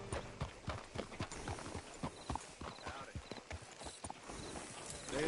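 Horse hooves clip-clopping in Red Dead Redemption 2, a steady walking rhythm of close, crisp hoofbeats continuing throughout with faint ambient background.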